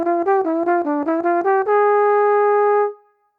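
Trombone playing a quick stepwise diminished dominant lick, a run of short detached notes ending on a long held tone, close, clean and solo.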